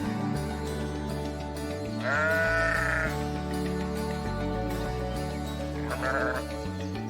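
Wild sheep in Alaska give two wavering bleats, one longer and one short, over a steady musical background.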